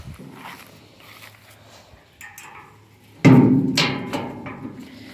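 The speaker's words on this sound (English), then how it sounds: "I'll tip the body back up on it." A Simplicity dump yard cart's heavy body being tipped, with quiet clanks and handling noises before a sudden loud metallic clunk that rings and fades, no talking.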